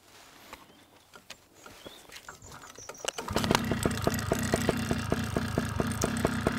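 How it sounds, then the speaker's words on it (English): A small Vittorazzi Moster 185 paramotor engine, during break-in, sputters and catches after a few uneven pops, then settles into a loud, steady, rapidly pulsing idle close by. "So, let's start the engine."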